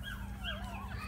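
A dog whimpers in high, wavering whines over a steady low hum, with no talking.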